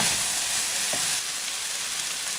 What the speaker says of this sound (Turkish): Sırada iplerimiz var süzgeç yardımıyla etleri tavaya koyuyorum. Güzelce karıştıralım.